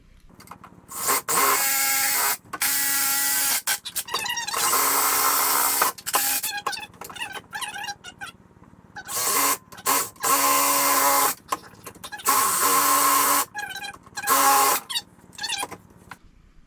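PVC pipe being cut freehand with a hand saw while building a boot aerator, heard as loud, raspy strokes in repeated bursts separated by brief pauses.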